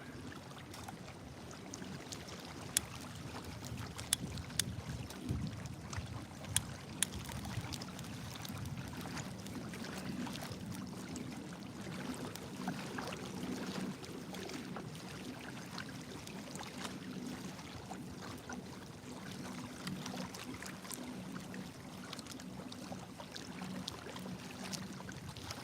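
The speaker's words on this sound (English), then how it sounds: "But it's so windy right now" Strong outdoor wind buffets steadily and loudly for the whole stretch, a dense low rumble with rushing gusts and no speech.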